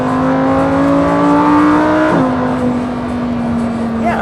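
A Lamborghini Huracan EVO's naturally aspirated engine drones loudly from the cabin while driving, a steady tone that dips abruptly at a gear shift then holds, with voices faintly under it.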